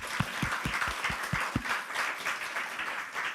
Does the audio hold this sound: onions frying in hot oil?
no